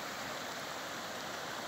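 High water of the Rio Jauaperi flows in a steady, dense rushing wash, loud and close, with no pauses.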